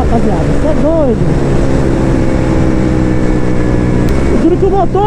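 A Honda CB 300 motorcycle engine screams at around 9,000 rpm during a top-speed run near 180 km/h, a loud, steady high-pitched whine mixed with rushing wind that holds constant throughout.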